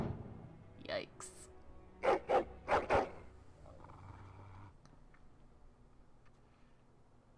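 A dog in the video game Dragon Age: Origins barks in a short burst of four or five loud, sharp barks close by, followed by quieter background sound; someone talks over parts of it.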